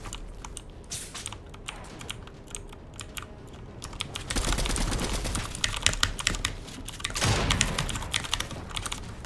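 Rapid, constant clatter of a typewriter-style mechanical keyboard during arena video game play, a dense stream of crisp key clicks that swells louder partway through.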